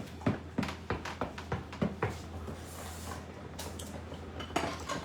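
A spoon works through sweet potato pie filling with two eggs in a mixing bowl, giving a run of close clinks and knocks against the bowl, irregular at first and then sparser, with a low steady hum beneath.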